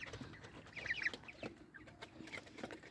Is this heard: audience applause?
no